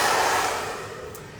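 A hair dryer blows steadily during salon hair styling while the hair is smoothed with a comb. The airflow is a close, loud broadband whoosh that tapers off slightly.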